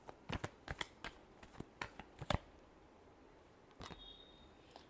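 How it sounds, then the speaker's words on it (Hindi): Tarot cards are shuffled in quick, crisp riffling bursts, a series of close, soft flutters and snaps followed by a brief pause and one final riffle. "Last shuffle."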